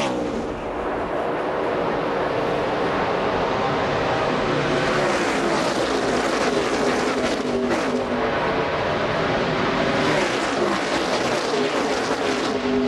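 Pack of NASCAR Nationwide stock cars racing at Daytona, a loud continuous engine roar with swelling passes and crowd din, under a fast commentator's voice.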